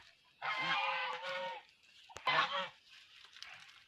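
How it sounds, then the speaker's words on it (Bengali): A domestic goose honks twice from nearby on a farm, a long nasal call followed by a shorter one, with quiet gaps around them. "রাজা হাঁস কীভাবে ডাকে"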